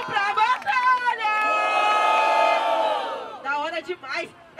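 A crowd at a rap battle in Brazil roars and shouts together in one loud, sustained swell that builds and then breaks into scattered yells, with a person talking over it at the start and end.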